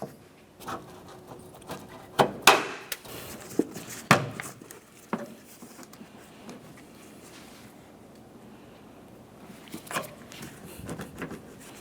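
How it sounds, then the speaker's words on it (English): A trim tool pops plastic push pins out of the cowl on a 2006-2011 Honda Civic. Several sharp plastic clicks and snaps come close up, clustered early and again near the end, amid light handling noise without speech. "To remove these, you can use a trim tool and just pop them out of place."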